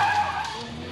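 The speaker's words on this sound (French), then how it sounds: "Il est venu piloter une voiture de démonstration Red Bull sur l'une des routes de banlieue les plus fréquentées de Hong Kong" A Red Bull Formula One demonstration car skids on a busy suburban Hong Kong road during a show for F1 fans, giving a loud, close tire squeal that fades over about a second.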